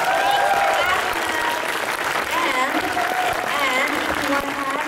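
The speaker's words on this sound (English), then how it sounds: "Let's give these guys a round of applause for coming out here." A convention audience at an MLP MSP 2016 fan event breaks into sustained applause, a dense wash of clapping with some cheering, steady and loud across the whole stretch.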